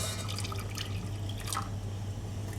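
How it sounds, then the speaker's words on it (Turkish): Cold water poured over cooked rice in a pot for Turkish yayla soup, a faint, soft splashing and dripping trickle against a low steady hum, with no speech. "Üzerine 2 su bardağı soğuk su ilave ediyorum."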